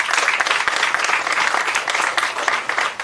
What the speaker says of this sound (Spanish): Um forte aplauso para Bolsonaro.